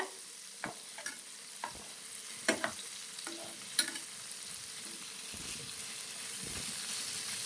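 Paneer pieces sizzle steadily in hot masala in a pan, with scattered scraping and tapping as a spatula turns them over, quiet and close.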